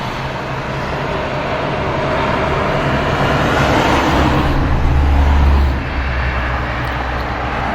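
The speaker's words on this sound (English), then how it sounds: "we are standing on top of a interstate highway over here" Steady interstate highway traffic at night heard from a bridge about 25 feet above the road, a continuous loud roar of passing cars with one heavier vehicle swelling low underneath midway.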